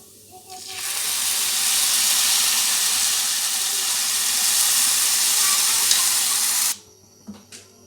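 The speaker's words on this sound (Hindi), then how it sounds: "अब इसमें हम चाश डाल के इसको फिर भूनेंगे।" Sugar syrup poured into frying makhandi halwa sets off a loud, steady hiss and sizzle that runs for about six seconds, then cuts off.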